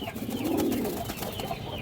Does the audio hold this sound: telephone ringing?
no